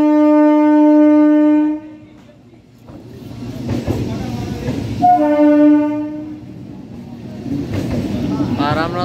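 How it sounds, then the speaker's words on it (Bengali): Train at Bongaon station sounding a long loud horn blast, then rumbling and clattering, with a second horn blast near the end amid platform noise. "আর খুব শীঘ্রই হচ্ছে আমাদের ট্রেনটা এখান থেকে ছেড়ে যাচ্ছে।"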